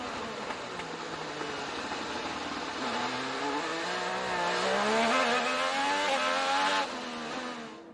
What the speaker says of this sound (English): Will Power sliding, backing it in to the hairpin